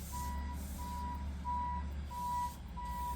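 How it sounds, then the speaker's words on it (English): Truck reversing alarm beeping outside in a steady repeating pattern, five evenly spaced beeps, moderately clear over a constant low engine rumble from the idling vehicle. "Hopefully you can't hear that beeping too loud. There's the truck outside doing something."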